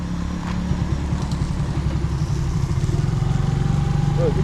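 A motorcycle running loud and close with a steady low engine throb that grows slightly rougher as it revs toward the end, voices talking over it.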